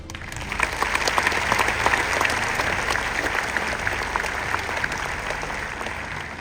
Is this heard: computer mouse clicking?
no